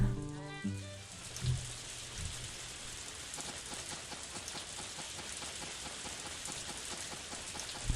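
Rain falls in Harvest Moon: A Wonderful Life as a steady, dense patter. It follows a few short musical or menu tones at the start and continues evenly, without talk.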